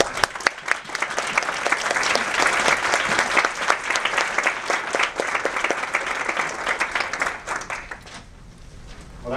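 A steady round of audience applause at a pro bono volunteer appreciation event, many hands clapping together for the full stretch and thinning out only at the end.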